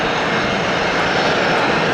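A Boeing 777 airliner's jet engines give a continuous, loud, broadband roar with a low, steady groan running underneath throughout.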